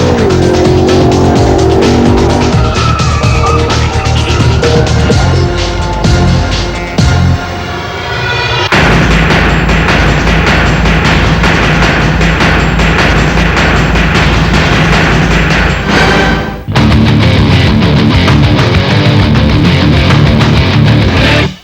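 Drag racing cars run down the track at a South African drag racing event, engines roaring loud and continuous with abrupt changes as one car cuts out and another launches.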